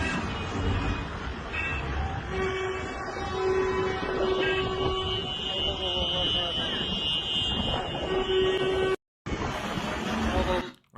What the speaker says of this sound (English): Everybody's honking their horns after this massive strike.